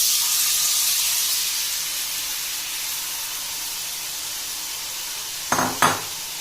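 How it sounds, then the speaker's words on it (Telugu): Custard liquid hitting a hot pan of golden-brown fried cashews for halwa, a steady sizzling hiss that slowly eases, then two short scraping stirs near the end; no one talks. "ఇప్పుడు ఈ కస్టర్డ్ లిక్విడ్ని పాన్లోకి వేసేయాలి."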